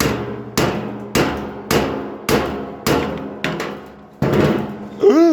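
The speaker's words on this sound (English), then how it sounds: "So this is the point where you pull out the hammer." Sharp, ringing metal strikes land about every half second, eight or so hammer blows with lingering clangs, ending in a louder resonant ring.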